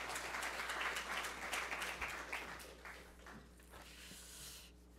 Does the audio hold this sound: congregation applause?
yes